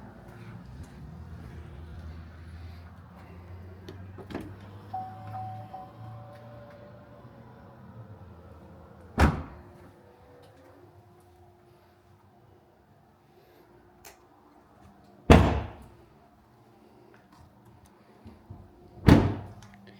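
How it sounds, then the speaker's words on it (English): Doors of a Soccer-themed kids' ride-on toy car shut three times in a quiet space, each a sharp isolated thunk spaced several seconds apart after a stretch of low background noise. "So let's go ahead and shut the doors."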